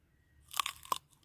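Two sharp crunches from biting into a crisp jujube fruit picked in a netted orchard, close and alone in quiet surroundings.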